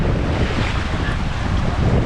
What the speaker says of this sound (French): Un beau petit vent, on fait de la voile plutôt paisible